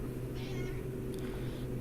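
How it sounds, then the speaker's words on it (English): A cat lets out a single faint, drawn-out meow indoors over a steady low hum. "And I have a cat. Different cat today. Meowing at me for some reason."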